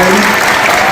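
A brief burst of loud, dense audience applause at an honor society ceremony for its advisors, steady clapping with faint voices mixed in.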